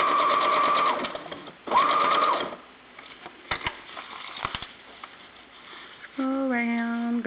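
Sewing machine stitching fold-over elastic around a corner, heard as loud, close bursts of rapid mechanical whirring, broken by pauses with light handling clicks, then a final short run.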